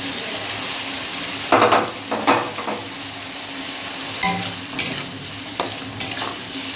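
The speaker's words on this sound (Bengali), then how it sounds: "মশলাটার সঙ্গে করলাটা মিশিয়ে রাঁধুনি তো বেশি ভাজা যাবে না আলুটা দিয়ে দিই" Bitter gourd and potato frying with spices in a pan, stirred with a utensil in several distinct scraping bursts over a steady low sizzle, close and moderately loud, with no talk.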